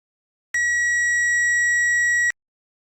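A power probe tester gives one steady electronic beep lasting nearly two seconds at a relay's pin 3, clean and sustained, starting and stopping abruptly.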